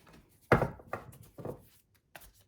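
Tarot cards of a Wild Unknown Archetypes deck shuffled in small chunks by hand, giving three distinct soft riffling bursts close up, followed by a fainter fourth, with quiet gaps between.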